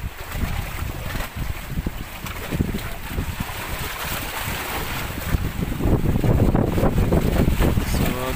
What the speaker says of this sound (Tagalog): medyo malakas ang alon at sumabay din yung malakas na hangin kahit ngayon ay habagat na.